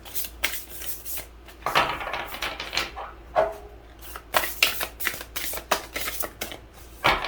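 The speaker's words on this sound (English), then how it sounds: "These cards are really difficult to shuffle because they're just a little bit too wide" Tarot cards, slightly too wide and hard to handle, being shuffled by hand in repeated riffling bursts of crisp paper flutter and slaps, close and moderately loud.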